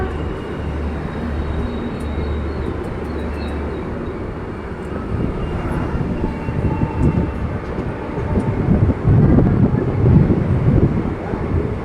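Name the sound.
Danapur Express train passing by a platform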